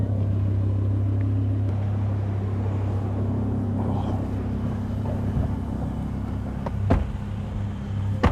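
Inside a moving orange car, a low engine rumble drones steadily with a few faint knocks and clicks on top.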